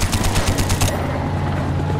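Rapid automatic gunfire fills a Call of Duty Black Ops battle, loud bursts of shots for about a second before giving way to a noisy rumbling background.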